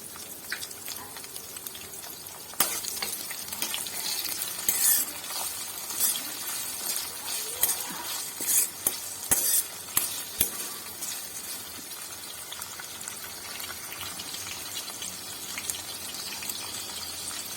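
Tomato frying in oil in a pan for an eggplant palya: a dense, continuous hiss of sizzling with scattered clinks and a burst of louder spattering midway.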